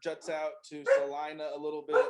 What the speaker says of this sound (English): So I apologize about my dogs.